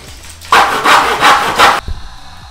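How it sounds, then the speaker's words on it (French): A wooden batten is hand-sawn in a small miter box, about four quick rasping strokes in steady rhythm, close and loud, then stopping abruptly with a few faint knocks after. "on découpe ça avec une petite boîte à onglets"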